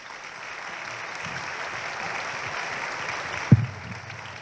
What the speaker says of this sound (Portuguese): Então, eu queria muitas palmas para André Macieira.